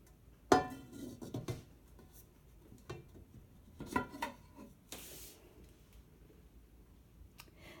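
A removable inner cooking pot from a Ninja Foodi pressure cooker is handled, giving a series of close metallic clanks and knocks, a sharper bang near the start and lighter taps after, with no speech.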